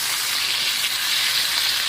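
Onions frying in a pan for a Southern chicken-livers-and-onions gravy give off a steady, dense, close sizzle that holds evenly from start to finish, with no voices.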